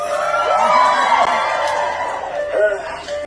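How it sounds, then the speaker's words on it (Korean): A theater audience at a sing-along screening cheers, whoops and sings along loudly and continuously, a dense crowd roar with rising and falling voices throughout. "극장안에서 관객들은 함께 춤을 추고 노래를 부르며 환호했는데"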